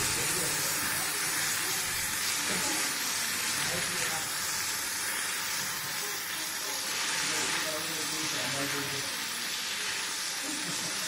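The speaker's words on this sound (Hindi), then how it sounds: "अब इसे हम हाई फ्लेम पर फ्राई कर लेंगे जब तक कि हमारे टमाटर सॉफ्ट ना हो जाए।" Chopped tomatoes frying on high flame for tomato pulao, a loud continuous hissing sizzle that carries throughout, with voices talking faintly underneath.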